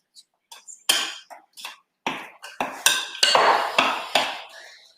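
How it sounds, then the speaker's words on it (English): Cake pop brownie mixture stirred in a bowl with a utensil, giving a run of close scraping, clinking strokes against the bowl in uneven bursts, loud and near, with no talk. "Just keep stirring."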